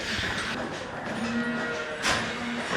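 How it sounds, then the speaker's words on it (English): A dairy cow lowing in a barn on a working dairy farm, a steady, fairly loud drone with a lower moo that rises and holds, over constant background barn noise. "She's a triple A cow."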